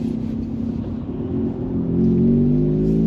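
A Mazda RX-8 (SE3P) rotary engine hums steadily up close, then climbs in pitch and volume as it revs toward about 3,500 RPM.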